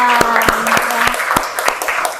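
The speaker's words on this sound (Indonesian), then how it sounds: "tepuk tangan dong buat Fabian." Applause from a classroom of students, a handful of distinct hand claps ringing out in a loose, uneven rhythm, fairly close and loud, with some voices talking over it.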